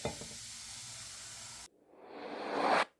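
Half cup of white vinegar poured slowly into a drain, giving a soft hiss that cuts off abruptly, then a fizzing that swells louder and ends suddenly, close and with no voices.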